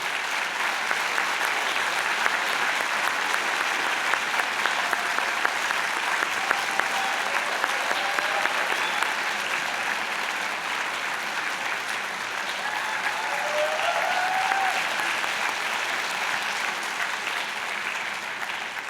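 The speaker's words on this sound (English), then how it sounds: "A warm round of applause for Dusty McHale and the Mohawk College Band" Sustained, steady applause from a convocation audience at Mohawk College, clapping for the college band after its performance, a dense even roar of hands that holds for the whole stretch with little change in loudness.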